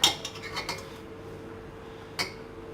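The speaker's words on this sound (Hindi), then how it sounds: "अब इसमें ये छलनी रखती हूँ।" A metal sieve is set into a pot on a cake stand for steaming, giving a few light metallic clinks and taps and then one more clink after a pause, all fairly quiet.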